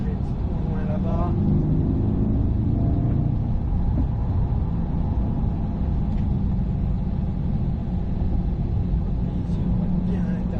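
Chevrolet Corvette C8 lapping a race track, its engine a steady loud low rumble throughout, heard from inside the car under someone talking.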